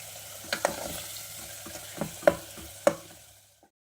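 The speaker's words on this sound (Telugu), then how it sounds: "ఇక్కడ మసాలా అంతా మిక్స్ చేసుకొని" Masala being stirred and fried for baby potato kurma, a spoon scraping the pan in a few distinct knocks over a low, steady sizzle, close and fairly quiet with no talk.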